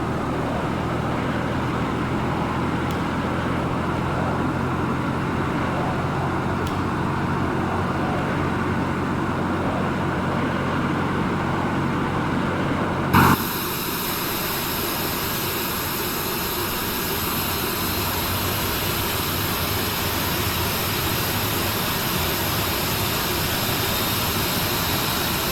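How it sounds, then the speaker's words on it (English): Airbus A320 engine 2 starting up in the Prepar3D flight simulator, a steady roaring whine that carries on with no break, then shifts abruptly to a brighter, higher hiss partway through as the start sequence progresses. "Starting engine 2."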